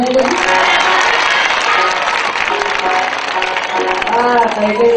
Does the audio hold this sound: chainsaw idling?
no